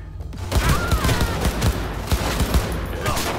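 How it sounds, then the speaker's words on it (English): Rapid bursts of assault rifle fire in the video game Cyberpunk 2077, loud and close, with repeated sharp cracks in quick succession over a steady battle din. "Yeah, good assault rifle."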